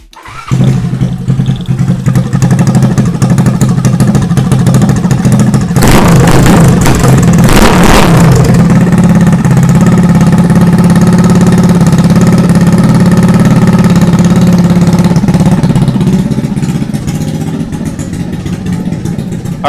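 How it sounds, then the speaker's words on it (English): Honda Ruckus scooter with a new exhaust header starts up and settles into a loud, steady idle close by, a brief rev surge early on, then a continuous throaty drone that eases slightly near the end. "So I'm going to go ahead and turn the key, pull the brake, and start it"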